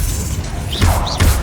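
Descendo spell in the Hogwarts Legacy game slamming a foe to the ground: two rising magical whooshes, each ending in a heavy low thud, loud and close over a busy game background.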